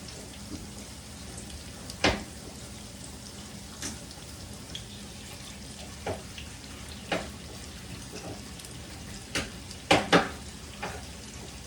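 Garlic and onion sauté in a pan for a Filipino pakbet with coconut milk, making a low, even sizzle under scattered clinks and scrapes of a utensil against the pan.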